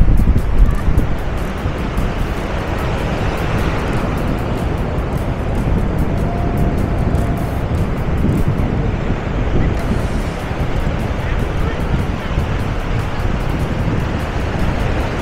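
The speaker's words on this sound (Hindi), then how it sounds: "ये समुद्र की लहरें ज़बरदस्त तरीके से आती हैं।" Ocean waves surge onto Varca Beach in South Goa as a constant loud roar, with heavy wind buffeting the microphone throughout and no speech.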